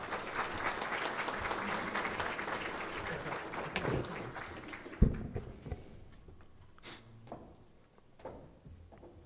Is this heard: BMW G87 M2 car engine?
no